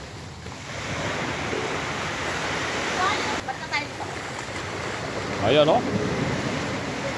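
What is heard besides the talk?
rushing sea water at Sual beach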